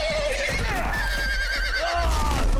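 Horse neighing in the Game of Thrones video game, Episode 1 "Iron From Ice", a loud whinny with rising and falling pitch over a low rumbling background.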